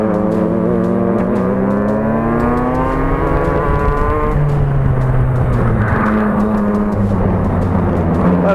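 An F300 racing kart engine screams at high RPM on track, a loud, close whine whose pitch climbs through acceleration, dips and rises again as the kart works through corners, with no talking.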